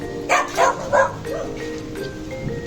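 A dog barks three times in quick succession nearby, followed by quieter whining and background noise.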